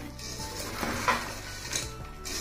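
Cashews being stirred into a jaggery boondi sweet mixture in a pan, a close, steady scraping and clinking of the spoon against the vessel with soft rustling, no voices.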